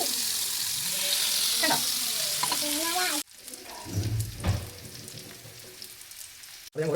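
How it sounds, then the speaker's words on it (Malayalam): Fish sizzling in hot oil in a pan, a steady broadband hiss with a few bubbly spatters, loud at first, then dropping abruptly to a quieter crackle with a brief clatter. "പാനിലേക്ക് നന്നായിട്ട് ഓയിൽ ഒഴിച്ച്, ഓയിൽ നന്നായിട്ട് ചൂടായി വന്നപ്പോഴത്തേക്കും നമ്മുടെ ഈ മീനെല്ലാം കൂടെ പെറുക്കിയിട്ട് കേട്ടോ"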